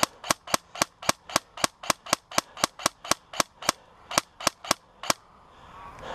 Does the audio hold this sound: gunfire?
yes